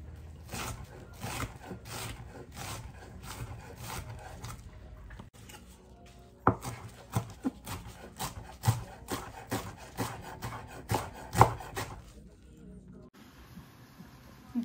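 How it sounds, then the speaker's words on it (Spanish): Vegetables are cut on a wooden cutting board for tacos, with soft rubbing scrapes early on and then a run of sharper, irregular knife taps close by. A brief pause falls in the middle. "la lavamos bien para seguir cortando nuestras más verduritas"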